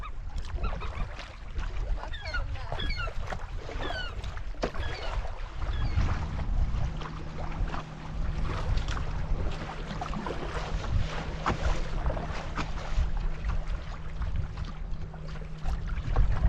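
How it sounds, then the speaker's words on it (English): A motorboat engine drones steadily on open water with wind and splashing from its wake, while geese honk and birds call in the background, heard from a canoe in Temagami backcountry. "That was a big wake from that boat."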